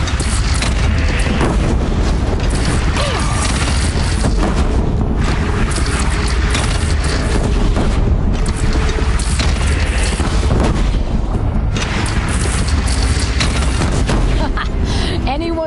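A cannon booms repeatedly amid heavy gunfire and explosions in a battle from Horizon Zero Dawn. The dense, constant roar of combat runs throughout, with shouting voices mixed in.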